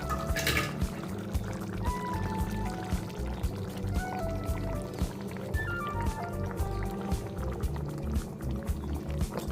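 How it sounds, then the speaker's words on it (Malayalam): Ground coconut paste, loosened with water from a mixer jar, pours into a ripe mango pulissery curry, making a steady, close liquid pouring and sloshing sound that lasts throughout. "ഇനി ഇതിലേക്ക് നമുക്ക് അരപ്പ് ചേർത്ത് കൊടുക്കാം."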